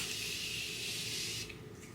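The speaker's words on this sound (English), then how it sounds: "I'm going to be using my Morphe Continually Setting Mist and just spray some on my skin." A continuous hissing mist spray from a Morphe Continually Setting Mist pump bottle, close up, lasting over a second before cutting off, followed by faint rustling.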